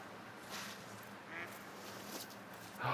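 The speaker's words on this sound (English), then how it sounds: "That's a turkey, not a duck." Wild turkey calling in the hunting game theHunter: Call of the Wild, a few short, faint gobbling bursts spread over a steady outdoor ambience, with a louder, nearer call at the end.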